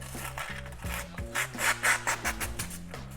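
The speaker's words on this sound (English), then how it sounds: "It might take a little bit longer to sharpen." The blade of a Case XX Tribal Lock pocket knife is drawn across a sharpening surface in repeated close rasping strokes, rhythmic and fairly loud, with faint tonal music underneath.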